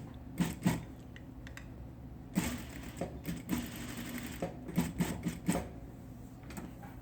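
Sewing machine stitching a top seam on a homemade fabric face mask, bursts of rapid rhythmic mechanical clatter starting and stopping, close and clear, no voices.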